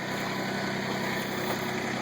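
A Kubota tractor engine runs steadily at close range, a continuous broadband drone with no talk over it, sitting on rocky ground where concrete is being moved.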